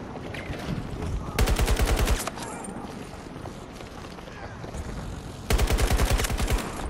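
In Battlefield Bad Company 2 and Battlefield 3 conquest play, two loud bursts of rapid automatic gunfire sound close, separated by quieter game ambience with scattered shots.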